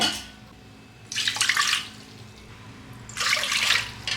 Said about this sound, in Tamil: இப்போ நான் அதே அளவு ரெண்டு கப்பு தண்ணி ஊற்றுறேன்